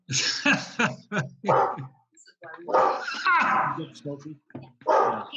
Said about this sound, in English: Hank, would you quit barking?